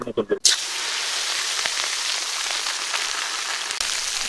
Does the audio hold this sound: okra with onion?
yes